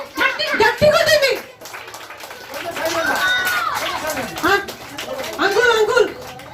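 Children at a Christmas puppet show break into loud clapping with excited crowd chatter, and an adult voice calls out over them at the start, in the middle and near the end.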